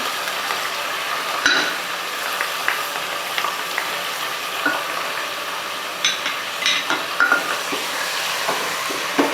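Ginger and garlic sizzling in a hot pan for mutton tahari, a steady close frying hiss with occasional scraping stirs and spoon clinks, no talk.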